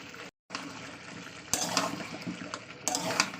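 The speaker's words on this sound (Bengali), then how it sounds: "আবার একটু আমি ভালোভাবে কষিয়ে নেব।" Potatoes being sautéed in a pan, a steady hiss of frying broken by a brief silence, then scraping and stirring clatters rising louder in a couple of bursts.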